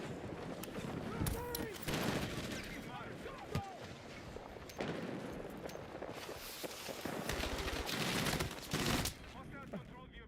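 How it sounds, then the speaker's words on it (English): Grenade launches and dense gunfire from the video game Battlefield 6 crackle in rapid, overlapping bursts and loud thuds throughout, a busy, continuous battle din. "A lot of nade launches going on."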